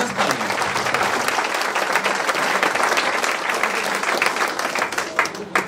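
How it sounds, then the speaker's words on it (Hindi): Loud, dense applause from a meeting audience fills the whole stretch, steady clapping with no break and no clear talk over it. "सभी सेकंड लीडर्स के लिए जबरदस्त तालियां"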